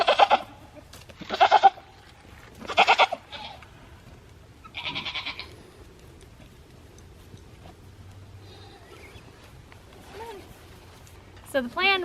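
Female goats bleat in several loud, close, wavering calls spaced a second or so apart, followed by quieter bleats further off and a final burst near the end.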